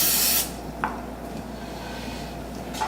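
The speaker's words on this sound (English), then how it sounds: "give it a good spray with some spray oil" A short, loud hiss of cooking spray oil from a spray can coats bread pans for white bread, one burst at the start, followed by a quiet kitchen with a few faint clicks.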